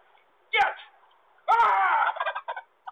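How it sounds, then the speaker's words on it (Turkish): Wild turkey gobbling in two bursts, a short call followed by a longer rattling gobble that trails off into broken notes, loud and close with no talk. "Dağıtıma çıktığı bölgede bir yaban hindisine rast geldi."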